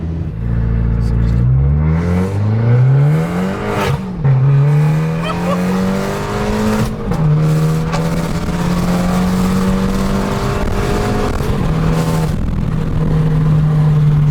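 A turbocharged Abarth Tributo Ferrari engine (TD04 turbo, about 245 bhp) revs hard and climbs in pitch, dips, then surges again with a whooshing turbo whine, loud and close throughout.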